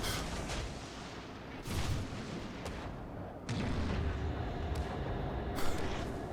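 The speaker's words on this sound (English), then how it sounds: "Now he opens up with his main battery on our battleship." Battleship main battery fire in the naval combat game World of Warships, during a Halloween event match, with several heavy booming salvos landing over a dense, rumbling background of continuous gunfire and no voices.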